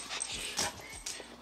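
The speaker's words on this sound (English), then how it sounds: "What are you barking at?" A dog gives short, yelping barks and whimpers indoors, several quick bursts close by in a kitchen setting, fairly quiet overall.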